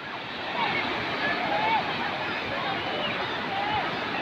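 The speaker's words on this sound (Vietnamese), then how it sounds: "vẫn sóng đẹp lắm, sóng to" Big ocean surf rolls in at Sầm Sơn beach in Vietnam as a broad, steady wash with gentle swells, while faint crowd chatter and occasional distant voices mix in over the waves.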